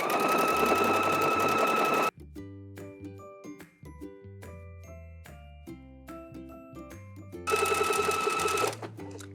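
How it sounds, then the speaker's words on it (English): A sewing machine fitted with a cording foot stitches a decorative hem, its close, steady motor whir running in two bursts, about two seconds at the start and again near the end, with quieter tonal music filling the pause between. "we are just gonna stitch directly up to that decorative stitch"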